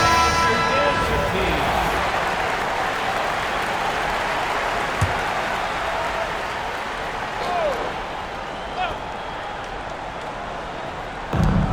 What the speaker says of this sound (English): Fans, please give a big round of applause for your fan team.